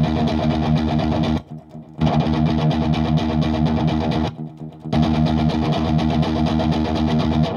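Single electric guitar note played through a Mosky D250 distortion pedal, loud and saturated with long sustain, twice cut briefly to near silence before resuming as the pedal is switched.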